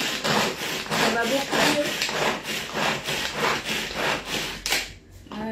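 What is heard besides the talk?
knife chopping courgette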